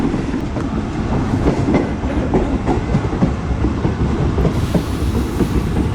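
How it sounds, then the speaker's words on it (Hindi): A Fareed Express passenger train running along the line as an oncoming train approaches to cross, with steady rumbling, wheel clatter and rhythmic clicks, loud and close throughout with no talking. "लगता है कोई ट्रेन सामने से आ रही है और हमारी एक क्रॉसिंग होने वाली है"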